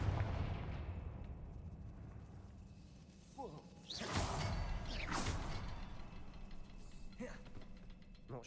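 Confringo fire spell cast in the Hogwarts Legacy video game, a couple of sharp whooshing blasts with crackling bursts, punchy and close over a low rumbling ambient bed, no voices.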